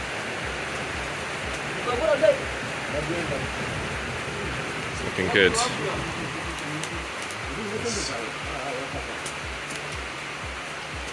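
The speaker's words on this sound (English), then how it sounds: "It's nice being under here in the rain." Steady rain drums on the roof of a farm shelter, a constant hiss with a few brief louder spatters, while a person speaks briefly under it.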